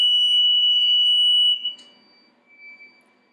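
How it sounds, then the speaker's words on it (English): A high liquid level alarm on the control panel of an ammonia chiller plant gives a loud, steady electronic tone for about a second and a half, then cuts off, leaving faint room noise. "We had a high liquid level alarm."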